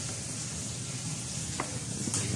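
Food hits a hot pan in a home New Year cooking session, raising a steady, dense sizzle that fills the whole stretch, close and even, with a few faint clinks and no talk.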